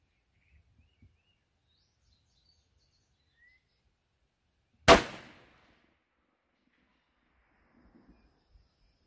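A single loud rifle shot from a .224 Valkyrie or 6mm Creedmoor fired at a steel target 500 yards out, a sharp crack with a short decaying tail, standing alone amid near-silence with faint rustles before and after.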